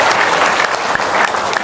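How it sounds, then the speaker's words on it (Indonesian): Audience applause breaking out after a cash payout of 200,000 rupiah during an Indonesian religious talk show, a dense steady clapping that holds at full level throughout without letting up. "Tepuk tangan dong."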